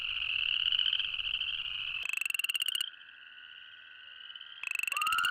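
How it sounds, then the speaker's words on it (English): Tiny chorus frogs, barely the size of a quarter, call loudly and up close in a steady high trilling chorus, with sharp pulsed bursts of calls breaking in twice over the continuous drone. "It should come from a beast of a frog with mighty lungs, but instead, it's the tiny chorus frog"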